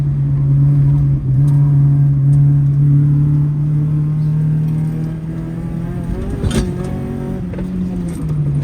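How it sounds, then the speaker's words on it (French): Car engine accelerating, a loud close drone with a steady rising pitch that drops and shifts as the car changes gear, then continues at lower revs with some rattling noise. "mais accélère pas à fond."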